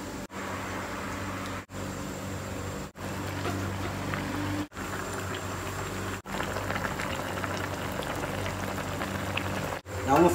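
Fish head, bones and slices cooking in a pot of spicy broth, a continuous bubbling boil with steady rain-like crackle, interrupted by several brief cuts.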